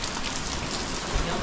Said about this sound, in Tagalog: bumuhos na naman po yung ulan